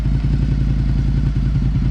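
A motorcycle engine given a small amount of throttle during a first riding lesson, producing a steady, close, throbbing low rumble with a regular pulsing beat throughout.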